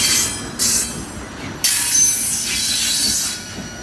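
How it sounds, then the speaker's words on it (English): A heavy freight train passes on a hill with a steady rolling rumble and bursts of high wheel squeal rising and fading. "Heavy train, can't wait to get it on the hill."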